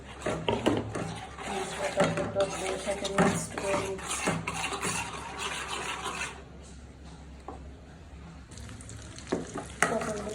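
Food fries in a pan for a Bengali pointed-gourd-in-yogurt recipe, with busy sizzling and spatula scrapes and clinks that fade noticeably partway through before a few more knocks.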